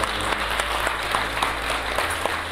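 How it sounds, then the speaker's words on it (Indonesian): Applause from a room of guests at a beauty pageant press event in Indonesia, an even patter of many hands with a few sharper claps standing out over a low steady hum. "Boleh saya minta tepuk tangan sekali lagi."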